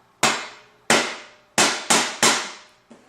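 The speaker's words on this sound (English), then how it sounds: "So I'm going to start out with my cookie can with nothing in it." An empty metal cookie tin struck as a drum gives five loud, ringing hits with bright decaying tails, spaced irregularly and close by, then a fainter sixth tap at the end.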